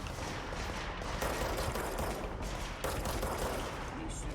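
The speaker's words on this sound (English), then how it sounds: "What are you shooting at over there?" Sustained bursts of gunfire in the video game Control, dense rapid shots rattling on with brief gaps and faint speech beneath.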